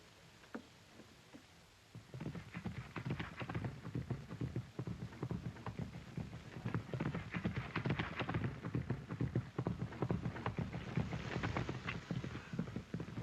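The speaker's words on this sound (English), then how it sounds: "giving his horse a workout first" A horse's hooves clip-clop in a fast, continuous rhythm as it gets a workout at a race track, starting after a quiet moment and then staying loud and close.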